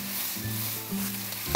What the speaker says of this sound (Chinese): 差不多豆腐有煎出像这样的感觉了